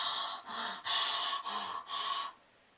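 A voice imitates a monster panting, with five heavy, breathy gasps in a slow rhythm, each a rough, snorting exhale close to the ear, before trailing into quiet.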